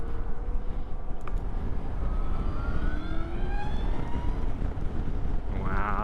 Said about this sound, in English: That spooling up of the electric motor.